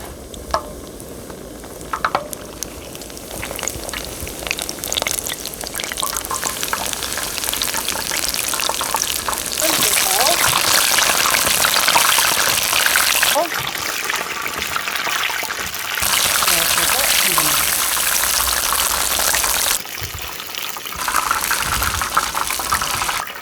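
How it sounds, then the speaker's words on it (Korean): Hot oil sizzles and crackles steadily as battered shiitake mushroom pieces deep-fry a second time at high heat, growing louder in surges with occasional stirring clatter; close and without voices. "튀김을 한 번 더 튀겨 주셔야 돼요"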